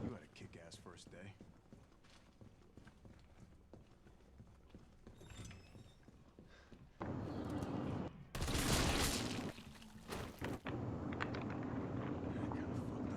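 Gunfire at police officers in Resident Evil 3 erupts as a loud burst of shots after a quieter stretch, with players talking over the game.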